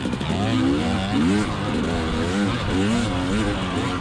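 A 2020 KTM 300xc TPI two-stroke enduro dirt bike ridden hard off-road, its engine wailing and warbling up and down with throttle changes, loud and close throughout.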